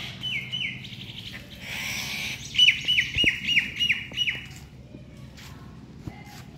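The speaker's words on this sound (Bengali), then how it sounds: "শালিক পাখির কিচিরমিচির আওয়াজ।" Common myna birds calling near a garden, a series of loud squawks and chirping trills in quick bursts, with softer twittering before and after.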